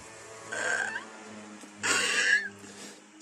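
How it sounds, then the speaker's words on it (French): A pet cat meows twice indoors, two drawn-out, nasal cries about a second apart, the second louder and longer, close and clear with no talk, followed by a faint short trailing sound. "c'est mon chat qui fait son gling gling avec son gling gling"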